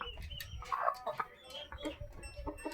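Native village chickens on a farm give a run of close, uneven clucks and short squawks, with a brief rustle that may be wing flapping.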